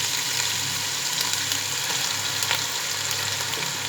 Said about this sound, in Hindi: गोश्त को डालकर हम इसे प्याज अदरक लहसुन के पेस्ट में भूनेंगे